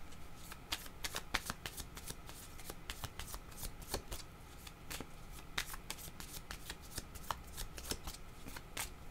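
Tarot cards are shuffled by hand in a quiet room, a close, continuous run of crisp riffling flicks and snaps repeating in quick bursts, with no talk.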